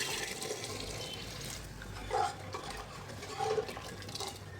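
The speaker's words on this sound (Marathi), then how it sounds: "तर आता ह्यामध्ये आपल्याला उकळी आलेलं पाणी घालायचं" Boiling water pours steadily into a pot of cooked dal, a continuous liquid rush with a couple of brief louder splashes, fairly close and without any talking.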